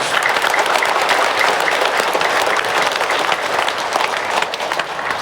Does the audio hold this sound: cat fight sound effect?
no